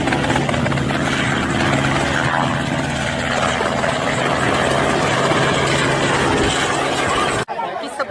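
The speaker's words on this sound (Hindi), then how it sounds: "कभी तो हेलीकॉप्टर से पर्चे गिराकर उनके अवतरण का मैसेज दे रहे हैं।" A helicopter drops leaflets overhead, its rotor and engine producing a steady, loud, broadband drone that holds for about seven seconds before cutting off abruptly near the end.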